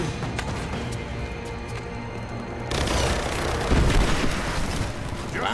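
Enemy gunfire in Rise of the Tomb Raider, heard as booming, bursting shots that grow louder and denser partway through, near and forceful with no voices over them.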